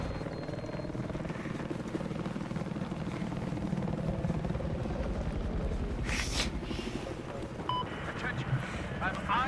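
A helicopter in Battlefield 4 drones with a steady rotor chop and engine rumble throughout, while a person talks over it and some brief higher-pitched game effects cut in.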